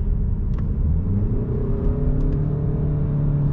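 Car with a DSG gearbox in sport mode, engine running under load with a continuous deep rumble and steady whir, close and loud, the revs held level without a clear shift.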